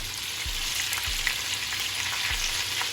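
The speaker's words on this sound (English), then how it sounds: "Let's add in our veggies. Give it a stir." Vegetables being stirred into a hot beef stew pot give a steady loud sizzle and frying hiss, with a few low thumps from the spoon knocking the pot at intervals.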